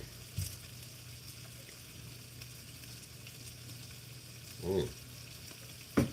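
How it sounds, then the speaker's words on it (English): Bacon strips frying in a pan, giving a steady close hiss and crackle throughout with a few louder pops and spatters near the end; a brief murmured voice is heard. "You guys hear that bacony goodness now?"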